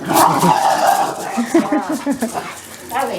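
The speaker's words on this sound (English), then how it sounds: "That's a guard dog." A guard dog barks in a string of short, loud yips and barks close by, mixed with people talking at the same time.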